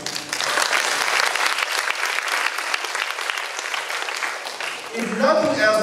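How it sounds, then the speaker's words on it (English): An opening-ceremony audience at a conference keynote claps in a sustained round of applause, dense and steady, tailing off near the end as other sounds come in. "give me a round of applause, please."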